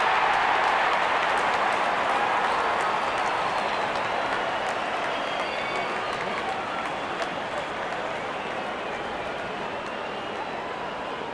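A large cricket stadium crowd roars and claps in a dense, continuous wash of cheering that fades slightly over time, with a commentator's voice faintly beneath.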